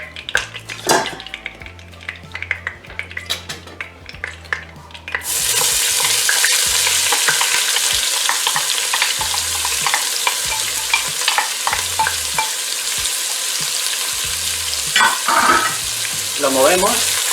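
Pans and utensils clink for a few seconds. Then chopped onion drops into oil left from searing chicken and breaks into a loud, continuous sizzle, with a spoon scraping and stirring through it.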